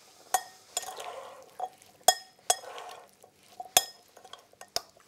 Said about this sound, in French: Bien sûr, on assaisonne bien avec le poivre et le sel. On va bien mélanger.